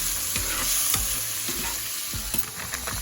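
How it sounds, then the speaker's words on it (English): A pan deglazed with Marsala wine while making a sweet potato Alfredo with shrimp: a loud, continuous sizzle and hiss with short scraping stirs and small pops running through it, close up and with no voices. "I added in a little Marsala wine to deglaze the pan and add an extra layer of flavor."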